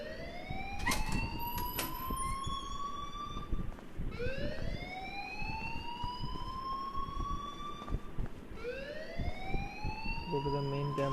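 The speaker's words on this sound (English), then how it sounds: "please turn off that alarm since that's your job" An alarm siren from the video game Life is Strange wails in repeated rising sweeps, about four cycles, loud and continuous beneath background game sounds.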